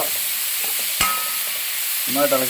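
Onions with salt fry in a pan for a bitter gourd and dried shrimp stir-fry, a steady sizzle with a sharp utensil knock and a brief scrape of stirring.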